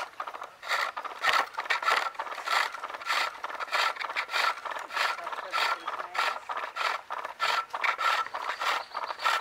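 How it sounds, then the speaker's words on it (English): A skew chisel cuts wood on a lathe in a quick series of rhythmic raspy scraping strokes, close and fairly loud, with brief pauses between passes. "I'm just using a skew to cut this stuff down, that's all."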